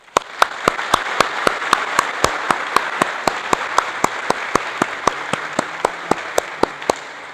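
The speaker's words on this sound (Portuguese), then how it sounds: "Uma salva de palmas" Applause from a church congregation during a Lutheran service, a dense wash of many hands over about seven seconds, with one sharp, regular clap repeating on a steady beat above the crowd.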